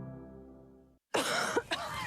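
A fading musical tone gives way to a brief silence, then a harsh, raspy cough bursts out close and loud, followed by further throaty hacking.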